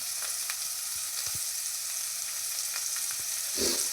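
Soya manchurian gravy frying in a pan, a steady hiss and crackle with a few faint ticks and a louder stir near the end, no voices.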